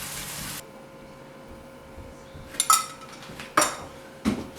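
Raw prawns are mixed by hand with Chettinad-style masala in a bowl: soft, quiet squelching broken by a few sharp clinks against the bowl, close up, with no talking.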